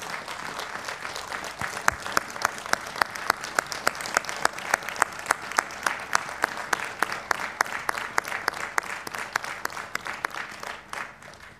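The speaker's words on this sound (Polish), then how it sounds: "dziękuję za te brawa dla nich" Sustained applause from a large crowd at a guard-changing ceremony before the Tomb of the Unknown Soldier fills the whole stretch, with rhythmic clapping emerging in a steady beat.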